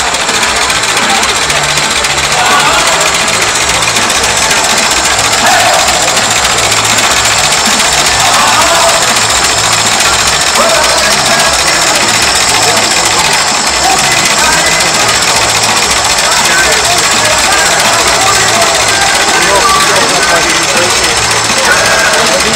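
A 20-horsepower Ford Model T engine with acetylene lights runs at a steady idle: a continuous close mechanical chugging with a low pulsing throb, and voices murmur in the background throughout.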